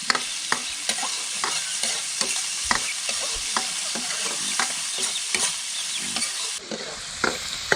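Pork pieces fry in oil until golden for a hill-style konjac-stem soup. A steady, bright sizzle runs throughout, and a spatula stirs and scrapes the pan in repeated clicks close by, with no talk.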